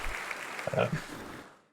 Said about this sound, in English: I'm going to give you applause on that one.